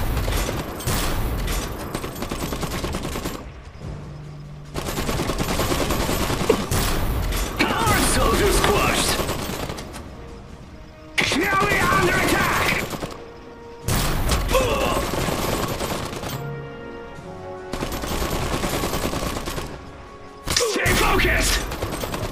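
Bursts of gunfire and mechanical clanking hit a walking mech in the real-time strategy game Iron Harvest, arriving in loud volleys separated by short lulls, with in-game voices heard among the shots.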